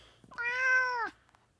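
A single cat gives one clear, drawn-out meow of about two-thirds of a second. It is close and loud against a quiet room.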